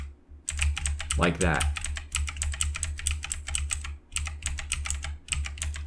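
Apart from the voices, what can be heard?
pressing arrow keys on a computer keyboard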